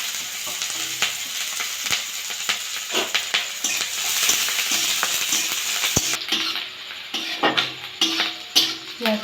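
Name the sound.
onions and green chillies frying in hot oil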